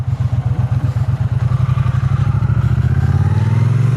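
A Triumph Bonneville motorcycle being ridden, its engine pulsing rhythmically and loud up close at first, then settling into a steadier, rising drone as it accelerates.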